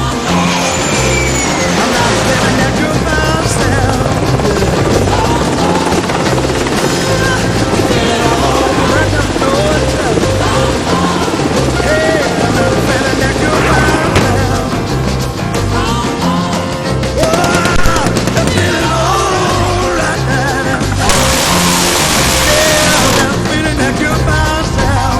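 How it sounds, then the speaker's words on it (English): Jet planes launch by catapult from the deck of the aircraft carrier USS John C. Stennis: a loud, sustained roar of engines with surging bursts runs throughout, and voices are faintly mixed in at times. "seeing the planes go off just now with the catapult and all the stuff that goes behind it"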